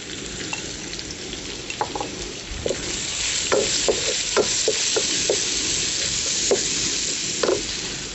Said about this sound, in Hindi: सारे मसालों को हम तकरीबन 1 से 2 मिनट अच्छी तरह भून लेंगे।